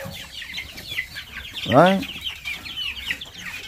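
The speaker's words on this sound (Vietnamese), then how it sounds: "Nhẹ nhàng đùa cho gà lại đầu này đã." Chickens cluck steadily while being gently herded across a farmyard, with one louder squawk in the middle and a person speaking briefly nearby.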